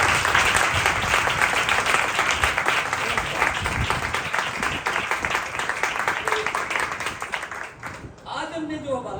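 A church congregation at a Sunday service applauds loudly, dense clapping filling the room almost without break for about eight seconds before fading out, as a voice starts talking at the very end.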